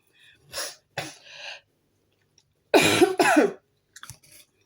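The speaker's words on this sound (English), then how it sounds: "I'm coughing a lot lately" Several close, harsh coughs: two lighter ones, then a pause, then two loud forceful ones back to back, with faint throaty sounds after.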